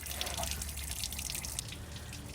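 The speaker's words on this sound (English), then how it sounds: "I'm just mindful of where this coolant is going to drip to." Engine coolant drips from a car onto the ground below, a soft, steady wet patter under a constant broadband hiss.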